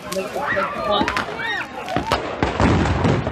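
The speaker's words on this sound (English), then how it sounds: "I think we're at the fireworks over there." Fireworks burst during a Fourth of July celebration, with a string of sharp cracks and booms at mid distance while several people talk and react over them.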